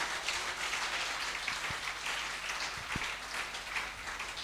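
Congregation at a church service applauding and cheering for Jesus, a dense, steady wash of many hands clapping with a couple of sharp low thumps, moderately distant and continuous.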